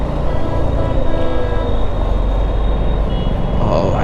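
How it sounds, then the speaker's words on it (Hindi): Highway traffic near Delhi heard from a motorcycle on a wet, rainy road: a steady, loud roar of passing vehicles and wind rumble fills the whole stretch, with no clear speech. "ट्रैफिक आना चालू हो गया है एकदम"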